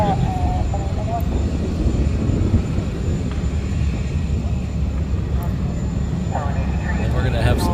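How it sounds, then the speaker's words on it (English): A German Luftwaffe Airbus A400M departs from a Hawaii airfield, its steady, loud engine roar filling the whole stretch as a broad, constant rumble, with a brief tonal whine near the end. "Our next departure will be a German Luftwaffe A400."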